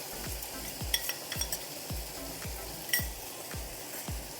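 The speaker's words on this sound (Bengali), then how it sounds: "দিয়ে ভালো করে আমি একটু কষিয়ে নেব" Sesame paste with ginger and green chili paste frying in a pan, a low sizzle under a regular rhythm of about ten spatula strokes scraping and tapping the pan, no voices.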